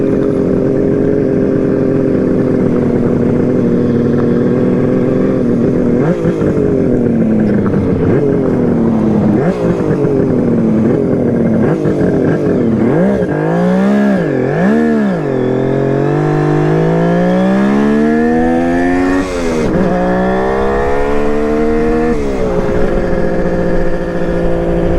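A Kawasaki KH500 H1 two-stroke motorcycle on the road, its engine loud and close and buzzing steadily, with repeated rises and falls in revs through gear changes and no talk.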